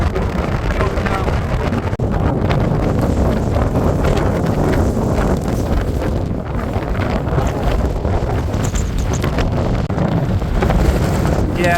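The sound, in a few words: strong high wind in the Lake District mountains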